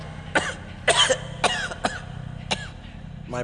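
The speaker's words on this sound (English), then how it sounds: "How long have you had that cough?" A man coughs in a series of short, harsh, close bursts, several raspy hacks spaced irregularly over a few seconds.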